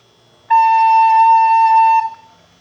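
A single held flute note, A, rings out clean and steady for about one and a half seconds at close range, starting sharply and cutting off into quiet.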